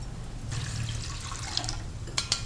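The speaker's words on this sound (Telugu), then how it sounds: "వాటర్ పోసేసుకున్నాం ఇప్పుడు మనం" Water is poured into a cooking pot for a chana dal and jaggery payasam, a steady, soft running pour over a low hum with a few brief splashy bursts near the end.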